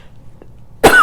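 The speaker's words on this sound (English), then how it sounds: "I had to clear my throat." A single short, sharp throat clearing close to the mic after a near-silent pause, abrupt and loud.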